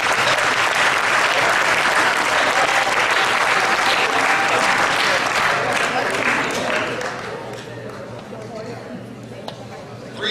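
A school basketball banquet crowd applauds the boys' team with loud, full clapping and cheering for about seven seconds, then the sound drops to a quieter tail of scattered claps and crowd murmur.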